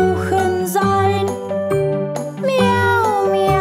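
A child-like singing voice imitates a cat's meows in a German children's song, with repeated sung 'miau' calls over a bright musical backing of tinkling, jingly tones.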